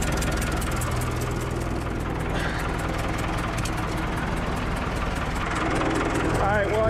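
A 1992 Pettibone 636 telehandler with a cracked exhaust manifold runs at a steady idle, giving a continuous low, rough engine drone that stays close throughout. Faint talk sits under the engine noise.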